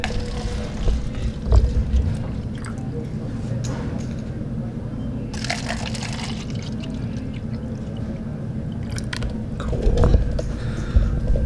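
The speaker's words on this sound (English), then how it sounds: "as far as filling up the water cups go, you want to fill them up a little more than halfway up" Water is poured into plastic cups while setting up tables for a paint party, a series of close splashing pours with small clattering handling sounds in between.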